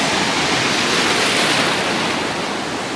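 Ocean surf at Miramar Beach, a loud continuous wash of breaking waves heard up close while standing knee-deep in the water, with no talk.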